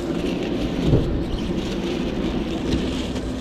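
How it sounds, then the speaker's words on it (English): Steady rain pours down in Nova Scotia, a dense, continuous hiss with a low rumble underneath, close and constant throughout without any voices. "Now it's gonna be rain today."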